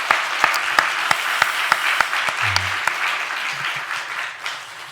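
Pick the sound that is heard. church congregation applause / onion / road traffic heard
church congregation applause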